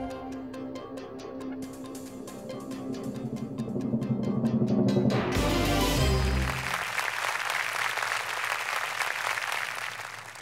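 A studio audience applauds on a Turkish history quiz show, a broad wash of clapping that swells loud through the middle and then tapers, with music playing beneath.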